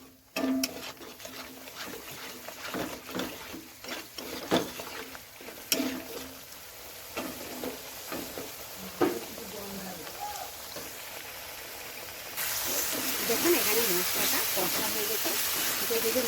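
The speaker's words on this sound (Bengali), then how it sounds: "এবার মশলাটা আমি কষতে থাকবো" Spice paste frying and being stirred in oil for a soybean omelette curry, a steady hiss with scraping stir strokes; the sizzle grows louder and denser near the end.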